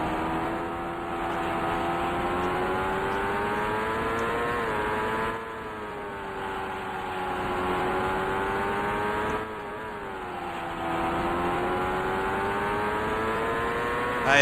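Race car engine over-revving in IndyCar Racing II at the 1990 CART Cleveland Grand Prix: a sustained, loud high-revving drone that rises and sags in pitch, briefly dropping off twice before climbing again.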